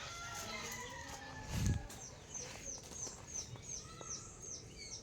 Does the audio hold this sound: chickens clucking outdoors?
yes